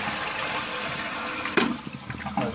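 Toilet with a converted dual flush valve doing a full flush via the outside handle, a steady rush of draining water with a sharper gurgle and splash near the end, close by.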